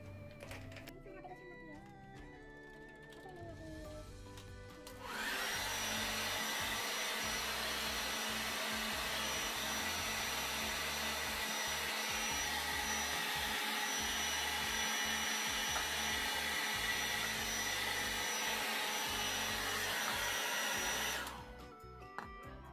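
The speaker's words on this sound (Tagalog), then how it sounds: "Mag-blower lang tayo para matuyo yung buhok natin." A hair dryer switches on and blows with a steady, loud whir for about fifteen seconds, then cuts off; faint background sounds before it starts.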